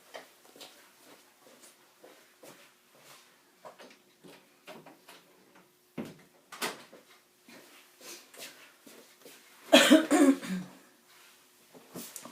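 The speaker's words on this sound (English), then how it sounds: "Please excuse my cough." Repeated dry coughs and throat clearing, scattered through a quiet room, building to a louder burst of coughing toward the end.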